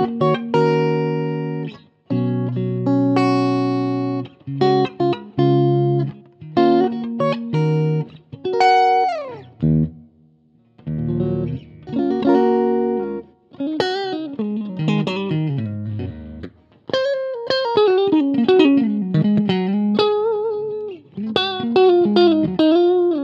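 An electric guitar runs through a Bullet BT 45 R amplifier with light reverb, playing loud, sustained chords and melodic single-note runs with bends, pausing briefly between phrases so the reverb tail rings out.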